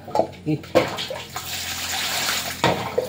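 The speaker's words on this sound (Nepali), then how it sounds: "यसरी पानी लगायो हो।" Tap water splashes over a knife used for cutting meat, coming in several short bursts and then a longer steady stream, with a voice speaking at times.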